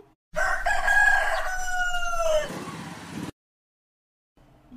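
A hen or rooster crows once, loud and close, its drawn-out call trailing into a rougher tail before cutting to silence.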